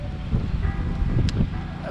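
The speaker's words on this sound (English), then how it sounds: "sorry about the wind" Wind buffeting a microphone outdoors on the Strzelecki Track in the outback, a steady low rumble that swells and gusts throughout, loud and close with no other clear sound.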